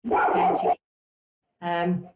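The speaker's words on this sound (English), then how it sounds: "Oh, lovely to have a dog there as well." A dog gives two loud, close barks separated by a second of silence, each a harsh voiced burst lasting well over half a second.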